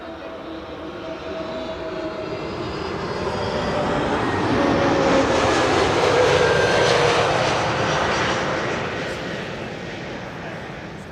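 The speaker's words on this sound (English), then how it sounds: "KLM Flight 1002, arriving from London Heathrow. One of the KLM A321 Neos" KLM Airbus A321neo jet arriving at Amsterdam Schiphol from London Heathrow, its engine roar building steadily, peaking close by around mid-clip, then easing away with a faint whine over the rumble.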